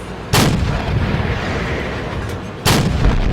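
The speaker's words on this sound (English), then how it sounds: "this gun's terrible at shooting on the move" Two loud, sharp cannon blasts from a KV-1 tank in a video game, spaced about two seconds apart, over a steady low rumble of the tank's engine.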